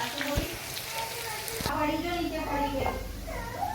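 Palak pakoras sizzle and crackle steadily in hot oil over a low flame, close up, with voices talking over the frying.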